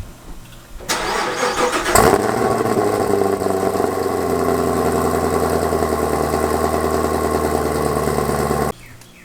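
A Chevrolet Camaro ZL1 1LE's engine cranks and catches at close range, then settles into a loud, steady idle for several seconds before cutting off abruptly, heard alone without speech.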